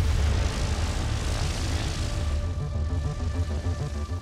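Propeller airplane engine droning loudly and steadily at close range, a sustained rumbling hum with a steady whine on top, as before a skydive from 13,000 feet.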